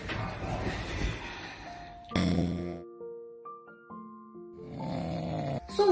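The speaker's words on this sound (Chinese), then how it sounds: "我看你最近打呼噜越来越严重，还有呼吸暂停的情况" A person snoring in sleep, with worsening snoring and pauses in breathing, gives rough, breathy snores that rise and fade in slow cycles. The snoring is fairly close, with faint tonal sounds in the background and no talk.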